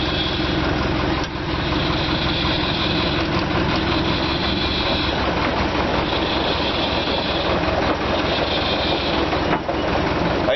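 An old JCB backhoe's diesel engine runs steadily and loudly at close range, a continuous low rumble with a rattling mechanical drone that holds throughout without pause.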